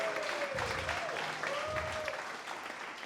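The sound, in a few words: applause for hackathon participants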